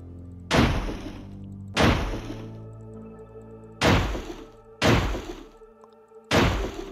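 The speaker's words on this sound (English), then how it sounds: "I'm just smashing everything around here." Five separate loud smashing impacts from breaking objects in the video game Stranger Things 3 each ring out and decay before the next, spaced roughly a second apart.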